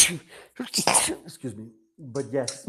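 A sudden sneeze bursts out in a room, followed by a person excusing themselves and talking; brief and close, mixed in with speech.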